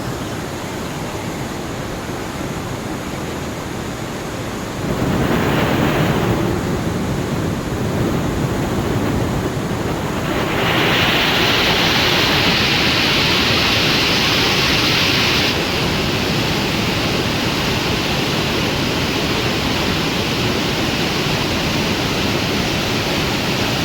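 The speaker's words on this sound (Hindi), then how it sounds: "पानी देखिए कितना फोर्स में चल रहा है इस समय।" Sharda river floodwater rushing with great force at the Tanakpur barrage: a loud, steady, broad roar of churning water that continues throughout, with surges and wind-like hiss and no speech.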